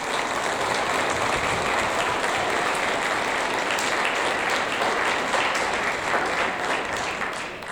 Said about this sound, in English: Everyone deserves that round of applause today